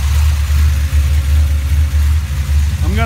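A Chevrolet 350 V8 engine idles loudly and steadily up close, a deep continuous rumble with a faint rising whine at the very end.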